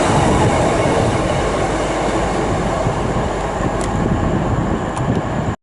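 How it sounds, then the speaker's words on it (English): A Class 43 HST high speed train arrives at a mainline station, a steady loud rumble of wheels and engine filling the whole stretch before cutting off abruptly. "arriving over in the distance is the Class 43 HST"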